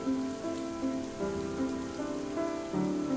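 Rain falling steadily onto an umbrella, a continuous close patter with a low musical tone running underneath and no voices.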